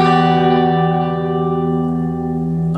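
A single electric guitar chord with delay and reverb rings out alone, sustained and shimmering like a bell, slowly fading over a few seconds.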